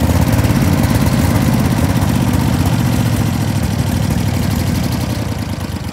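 A lawn mower engine runs flat out at full throttle, a loud, steady, close-up mechanical drone that holds without a break for the whole stretch, with no voices over it.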